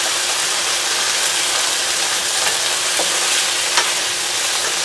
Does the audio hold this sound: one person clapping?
no